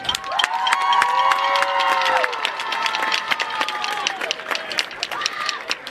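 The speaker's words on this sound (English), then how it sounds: "Please give another round of applause for our lovely homecoming court." Crowd in the stands at a varsity high school football game cheer, whistle and applaud the homecoming court, a dense, lively roar with scattered clapping and shrill shouts throughout.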